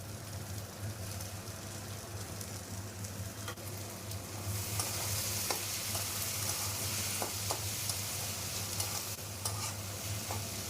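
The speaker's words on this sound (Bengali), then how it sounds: "পেঁয়াজ ও ক্যাপসিকাম একসাথে মিশিয়ে একটু ভেজে নেব।" Chopped onion and capsicum sizzle together in hot oil for Bengali chicken kosha; the frying hiss swells louder midway, with scattered spoon clicks and scrapes from stirring close by.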